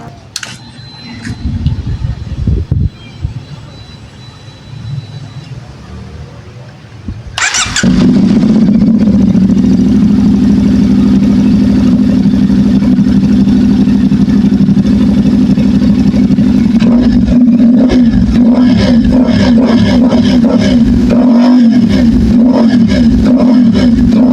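Rebuilt Stihl SR 450 backpack mistblower engine cranked with a few pull-start attempts amid handling noises, then catching and running as a loud, steady two-stroke drone with slight revving fluctuations up close.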